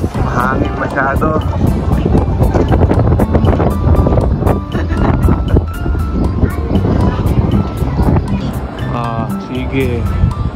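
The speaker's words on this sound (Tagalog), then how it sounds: "Mahangin masyado." Strong wind outdoors at the Gotemba outlet near Mt. Fuji in Japan, a constant low buffeting rumble on the microphone, under near-continuous close talking.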